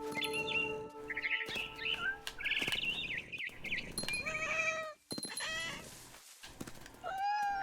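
Cat meows and caterwauls in the video game What Remains of Edith Finch, loud and close, mixed with chirping bird calls and bright in-game tones, repeated throughout with no talk.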